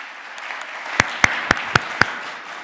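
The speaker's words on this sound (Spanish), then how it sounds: "Démosle un fuerte aplauso," A handful of sharp, evenly spaced claps, five in quick succession, ring out over a faint room murmur at a book presentation at the Guadalajara book fair, welcoming the book's editor.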